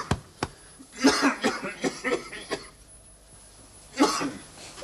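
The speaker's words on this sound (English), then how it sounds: "you could control that cough" A person nearby coughs in a rough cluster of several hacks, pauses, then gives one more cough.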